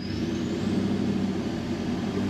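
A Toyota 79 Series with an 8-speed transmission conversion and a loud exhaust pulls away in first gear, a close, steady low engine drone with a constant rumbling tone.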